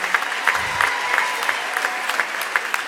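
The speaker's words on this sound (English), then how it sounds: "give a big round of applause for that." Audience applause at the Grand Bahama Technology Summit, a brief burst of scattered clapping from a moderate crowd, steady and fairly near, without speech over it.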